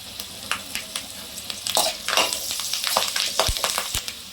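Green chillies with turmeric and asafoetida sizzle steadily in hot oil for mango pulihora, with intermittent scraping and stirring of a spoon against the pan, close and moderately loud without voices.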